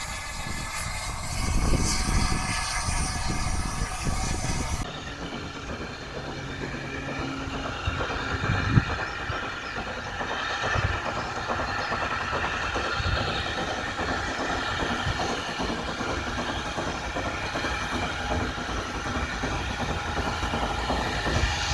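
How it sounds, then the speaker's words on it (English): A steam locomotive at Didcot Railway Centre runs continuously, a steady rumbling rail sound with a faint rhythmic chuff and clatter throughout, moderately distant, with a louder broadband rush in the opening seconds. "That was about all the chuffing I heard from it throughout the whole day."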